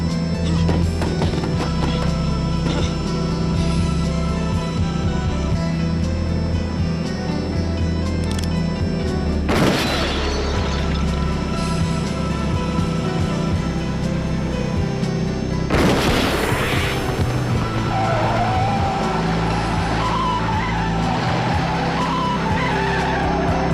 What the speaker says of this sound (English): it causes the hearse to collide, blowing up the vehicle and destroying the clone